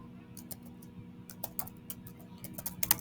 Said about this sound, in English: So we're going to type the word override